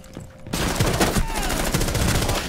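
Rapid gunfire in a team shooter game, a burst erupting after a quiet half-second and continuing densely with overlapping shots to the end, loud and close.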